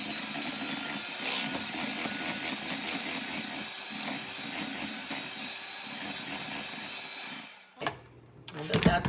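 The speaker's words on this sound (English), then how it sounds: "I could use my big mixer, but for this I'm just going to use my small one." Small electric hand mixer beating cookie batter for pumpkin cookies, a steady close whirring hum with rattling beaters that runs evenly, then cuts off abruptly near the end followed by a few faint knocks.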